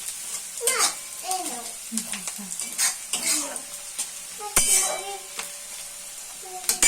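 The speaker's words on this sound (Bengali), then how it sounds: "এবারে আদা কুচনো আদাটা ভালো করে ভেজে নিতে দেবো" Chopped ginger fries in a pan with garlic for a dhaba-style tadka, giving a steady sizzle broken by repeated scrapes and stirs of a spoon against metal, close up, with a voice briefly heard in the background.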